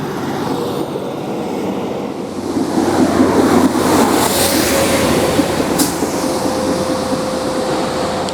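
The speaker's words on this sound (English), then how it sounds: "It's nice to see the MPV vehicle de-leaf the tracks." A rail leaf-clearing train passes through a little-used British station, rumbling with a loud, steady roar that swells midway and holds, with a faint high whine over the noise.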